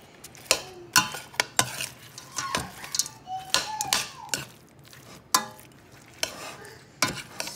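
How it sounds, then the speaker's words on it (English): A spoon scrapes and clacks against a pan as French fries are stirred into a sauce mixture for chicken à brás, a series of close, irregular knocks and scrapes over a faint sizzle. "So I added the French fries to the mixture, and I'm just gonna mix them together"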